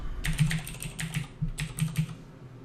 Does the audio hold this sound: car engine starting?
no